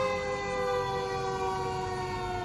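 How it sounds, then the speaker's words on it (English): Fire truck sirens wail steadily outside, loud and continuous with no pause as the engines pass by, with no voices over them. "There's no ambulance, there's just fire trucks."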